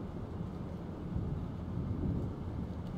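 Thunderstorm in the video game Life Is Strange, heard as a low, continuous rumble of thunder with rain and wind. It swells slightly midway and stays fairly faint, with no voices.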